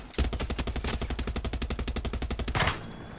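A mounted gun in Far Cry 6 fires one sustained, rapid, even burst of loud, close shots lasting about two and a half seconds. It cuts off sharply and leaves a short fading tail.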